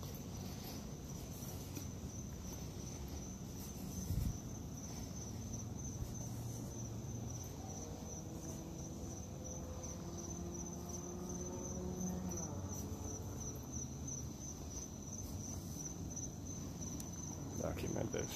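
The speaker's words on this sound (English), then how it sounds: "Crickets." Crickets chirp steadily in a high, continuous trill against a quiet night background on a street in Cape Coral, Florida, with faint low murmurs and occasional soft thumps.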